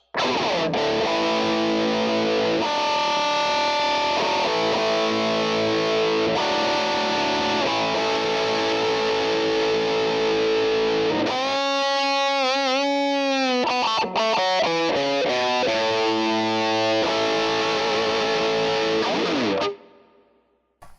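A heavily distorted electric guitar through a Line 6 Helix amp modeler with standard Helix cabs plays sustained chords and a bending lead phrase, loud and continuous, then cuts off near the end.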